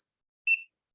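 A small electronic device gives a single short, clean beep while being recalibrated, isolated in near silence.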